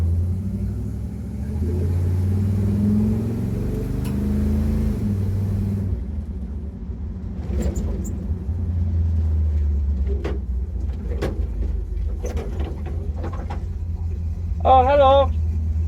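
A Chevrolet C10 truck with a new carburetor idles low and steady, its deep rumble running throughout under a person talking, with a few sharp clicks and a short chirp near the end.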